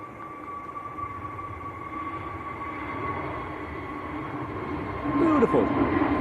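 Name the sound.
KLM Airbus A321neo on its takeoff roll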